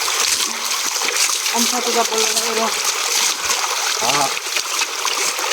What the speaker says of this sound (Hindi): ये देखो बोरिंग के पानी से बेल को धो रहे हैं